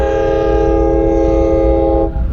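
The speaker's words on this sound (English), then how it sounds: "It's a train." Train horn blaring loud and steady with a sustained chord over a rumbling rail passage, heard from a rider stopped beside the tracks, cutting off near the end.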